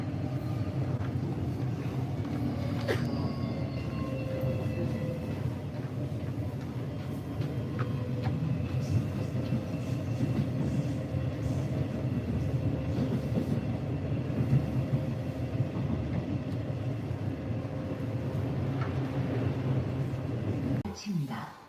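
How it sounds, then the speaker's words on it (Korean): A subway train in Busan runs with a steady low rumble and rail hum throughout, while a Korean announcement voice speaks over it. "열차가 곧 출발합니다."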